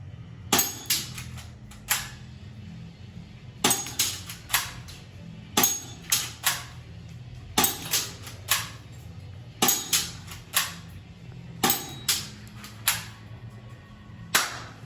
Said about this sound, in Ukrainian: Моделька відстрілялась.